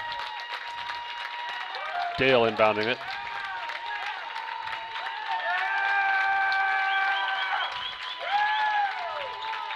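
Spectators keep up steady clapping and crowd noise in a gym at a Latta at Dale girls basketball game in its closing seconds, with a commentator calling play over the din and sharp squeaks cutting through.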